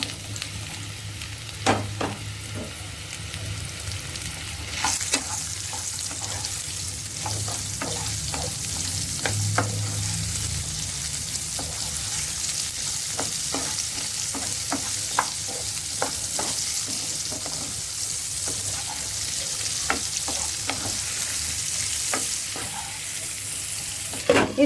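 Carrots fry with cumin seeds and asafoetida in a pan, a steady dense sizzle running throughout with scattered ticks and pops from the spices, close and continuous with no talking.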